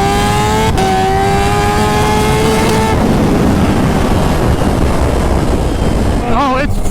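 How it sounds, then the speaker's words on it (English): Kawasaki H2R supercharged motorcycle engine, very loud, revving with rising harmonic whine for about three seconds, then settling into a rough roaring drone with wind noise, and a brief voice near the end. "This bike is just silly loud."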